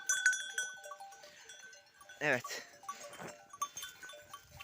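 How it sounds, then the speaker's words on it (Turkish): Sheep bleat softly and chew while they eat green fodder on a Turkish farm, with a bell clinking nearby and a person briefly speaking. "Koyunlar bunu yiyor arkadaşlar purçu"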